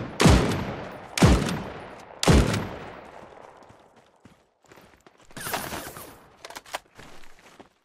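Three loud, booming shotgun blasts fire in a video game at an even pace and decay quickly, followed by quieter gunfire, thuds and clatter.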